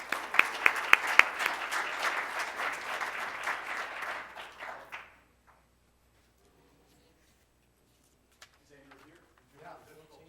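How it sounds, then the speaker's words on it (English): A room of people at a Rotary Club meeting breaks into close, brisk applause with a few sharp nearby claps, fading out around five seconds, followed by near silence and soft talk. "Let's give him a round of applause."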